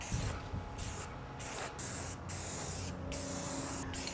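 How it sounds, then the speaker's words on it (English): Steady hissing spray from an aerosol can of quick-drying paint, used during a carport build, nearly continuous with a few brief pauses between bursts, close and fairly loud. "This spray can version claims to dry in 15 minutes, which is why I'm using it."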